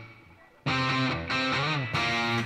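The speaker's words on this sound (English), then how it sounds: "so I have a spring reverb turned on." Electric guitar played through an amp with spring reverb: three ringing chords struck in succession, bright and sustained, each note trailing off into a soft reverberant wash.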